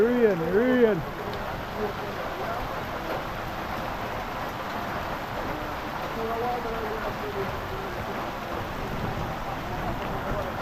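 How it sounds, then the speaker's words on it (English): Steady rain hisses down continuously in the Jamaican countryside, with a voice briefly heard at the start and faint talk or motor hum underneath. "Rain, people, rain."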